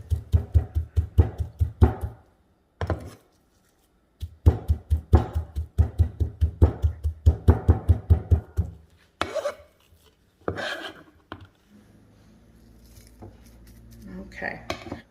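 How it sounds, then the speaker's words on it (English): Knife chopping and mincing pork on a cutting board, bursts of rapid rhythmic knocks separated by short pauses, close and fairly loud, followed by softer scraping and handling. "I'm just going to cut this into small chunks and then mince it"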